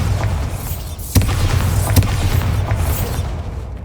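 Bombarda spell explosions in the game Hogwarts Legacy, set in catacombs: a loud, dense rumbling boom with two sharp blasts standing out about a second apart.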